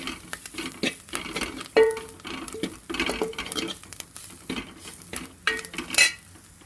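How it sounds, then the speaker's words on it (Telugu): Masala spices for tomato pepper rasam fry in a pan, with irregular metal scrapes and stirring clinks of a spoon over a faint sizzle, close and uneven. "ఇప్పుడు ఇదంతా బాగా 5 నిమిషాలు అయితే ఫ్రై చేసుకుందామండి"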